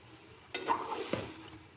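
Mutton karahi being stirred in a pan, giving two short scraping strokes with a soft sizzle underneath, quiet and close.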